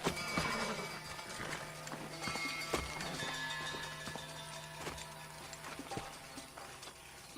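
Horse hooves clip-clop in a steady trotting rhythm in the video game Red Dead Redemption, with scattered clanks and a low hum underneath.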